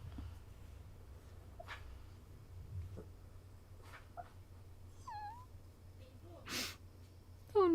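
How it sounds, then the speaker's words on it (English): A sleeping pet snores softly, with small squeaky chirps and little whimpering noises mixed into quiet breathing and a sudden louder snort near the end, all close and faint. "making cute noises while she's snoring"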